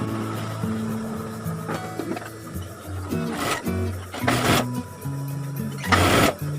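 A sewing machine stitches the lining of a slanted pant pocket with piping, its motor whirring in short start-stop runs with brief pauses between them.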